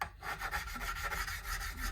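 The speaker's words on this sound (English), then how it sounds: "It's a triangular file, but one of the edges is softened so that you can rub it against the wood and it won't hurt it." A triangular file with one softened edge is rubbed against the wooden neck of a Jackson baritone seven-string guitar, making quick, close back-and-forth rasping strokes, fairly quiet.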